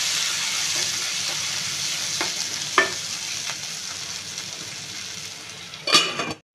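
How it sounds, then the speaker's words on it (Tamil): Tomatoes sauté for corn masala, sizzling steadily in a pan, with a few soft stirring scrapes and a brief metallic clatter near the end. "இப்போ நம்ம தக்காளி சேர்த்துக்கலாம் இதை நல்லா வதக்கி விட்டுட்டு மூடி வச்சிடலாம்"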